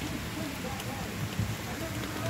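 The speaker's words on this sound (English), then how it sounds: "That's a drop of rain though." Raindrops fall outdoors during a thunderstorm, a steady patter with a few louder individual drops against a dense, hissing wash of sound.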